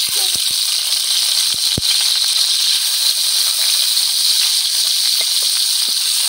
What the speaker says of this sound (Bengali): এখন আমি মাছটি দিয়ে লইতেছি কড়াইয়ের মধ্যে।